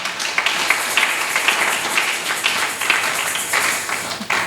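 A church congregation claps and cheers in praise, a dense, steady wash of many hands with sharper crests every second or so, lasting throughout without a break.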